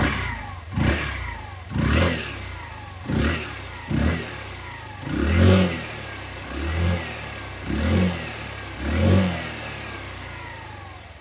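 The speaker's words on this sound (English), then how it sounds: "let's take a listen at the exhaust note" A Hero Xoom 125 scooter engine revs repeatedly, rising and falling in eight or so throttle blips over a steady idle, close and fairly loud.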